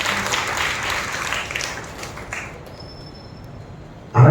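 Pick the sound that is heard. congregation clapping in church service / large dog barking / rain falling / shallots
congregation clapping in church service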